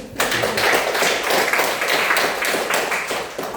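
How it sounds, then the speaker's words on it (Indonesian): A classroom group of students claps in applause, rapid overlapping hand claps sustained evenly for a few seconds at moderate volume, heard up close with no talk over it. "Beri aplaus dulu"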